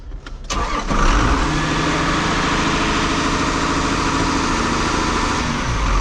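A repaired pump engine on a hay farm starts after a few brief cranking clicks, then catches and settles into a loud, steady idle that holds to the end.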